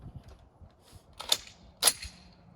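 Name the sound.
Springfield Armory M1A rifle firing 7.62 NATO ball at steel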